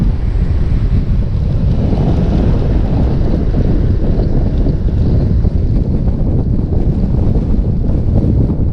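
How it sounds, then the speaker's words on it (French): Strong wind buffets the microphone while riding a Dualtron Minimotors electric scooter across a bridge over the Garonne in Toulouse, a loud constant low rumble and roar throughout, with no talking. "Il y a pas mal de vent. Je le ressens."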